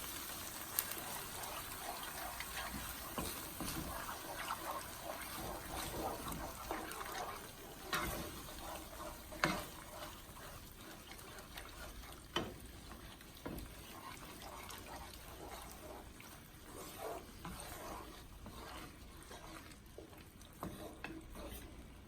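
Chicken Alfredo sauce with seasonings is stirred in a pan: a quiet, close, continuous wet swishing and scraping with a faint sizzle, punctuated by occasional clinks of the utensil against the pan, and no talking.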